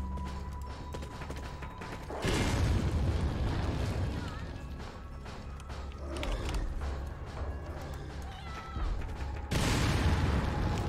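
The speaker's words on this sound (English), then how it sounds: "Let's just use another grenade" Grenade blasts in Resident Evil 4 come as deep, heavy booms that swell and roll off, two big bursts separated by rumbling game noise and clanks, loud and close.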